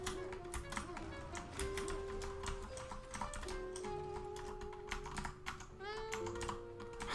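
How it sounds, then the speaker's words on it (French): Someone types quickly on a mechanical keyboard with blue switches during a Quake 2 speedrun. The keys make a faint, steady rattle of clicks under game music and tones. "Mais c'est un clavier mécanique."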